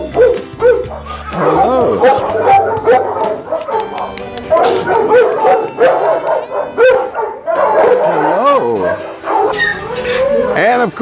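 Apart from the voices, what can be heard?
dogs barking at animal shelter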